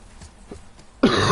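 A single sharp cough bursts out near the end of a quiet stretch from a gamer streaming God of War on a PS4 Pro, loud and close, after faint background murmur.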